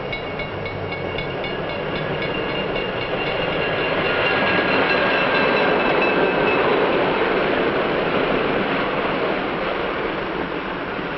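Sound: passenger train approaching a station

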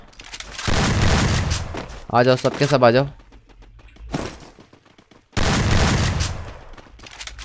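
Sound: gunfire in a video game on factory roof

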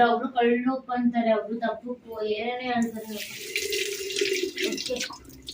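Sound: water poured from tap into sambar

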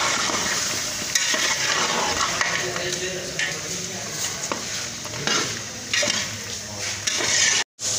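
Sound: frying and stirring boiled mutton with peas in pot

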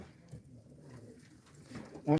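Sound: pigeons cooing

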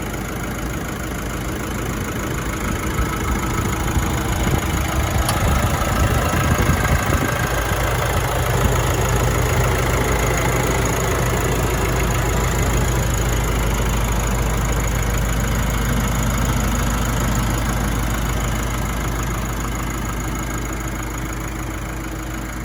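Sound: 2016 Nissan Navara NP300 engine idling

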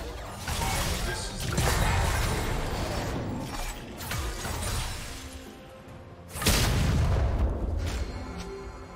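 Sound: turret being destroyed in video game League of Legends

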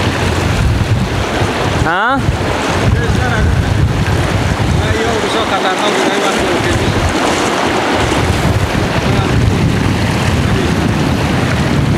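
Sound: rushing water of the Kokcha river

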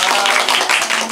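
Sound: audience applause at a wedding

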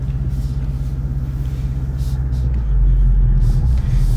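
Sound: car engine rumbling as ride begins

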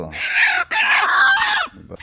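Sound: native (deshi) rooster clucking

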